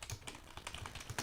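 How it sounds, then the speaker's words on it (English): Rapid, fairly quiet typing on a computer keyboard during a programming session, with a dense run of close key clicks and no talk. "my typing gets all like jittery"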